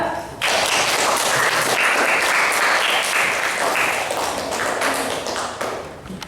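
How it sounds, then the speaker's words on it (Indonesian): A classroom of students applauds, dense clapping starting abruptly and continuing steadily at full volume before tapering slightly at the end. "Silakan kalian beri tepuk tangan untuk kelompok 2."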